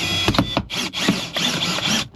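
A power drill whirs in repeated short pulses while cutting out the windshield of a 2024 Hyundai Santa Fe, loud and close, with brief gaps between bursts.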